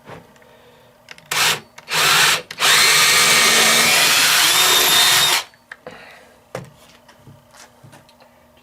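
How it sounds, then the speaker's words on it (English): A power drill whirs in a few short bursts, then runs loud and steady for a few seconds before stopping, followed by light clattering, while pre-drilling holes in wood for exterior screws. "So I'm pre-drilling some holes."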